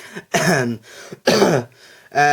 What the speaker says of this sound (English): That was me trying not to cough, but that didn't work out.